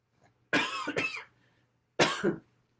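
Two bursts of coughing, a double cough followed by a single one after a pause, close and fairly loud against a quiet background.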